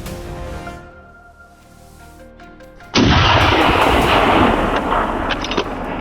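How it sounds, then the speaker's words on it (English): A gun is fired at a wild boar during a Texas boar hunt: a low mechanical hum gives way to one sudden, very loud blast whose booming roar carries on to the end. "I instinctively reacted, raised my gun, and aimed decisively."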